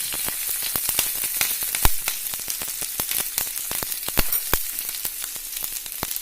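Curry leaves and green chillies crackle and sizzle in hot oil, a steady fry punctuated by sharp pops and spits, close and clear with no voices.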